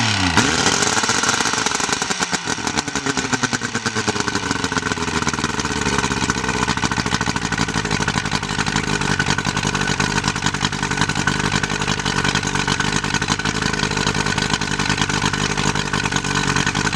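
A 60 HP Evinrude Fireball outboard motor starts and runs close by, a loud, steady, throbbing idle with a rapid pulsing beat that holds throughout.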